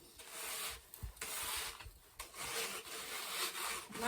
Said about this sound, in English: I can grate away, and it leaves some pretty nice smooth edges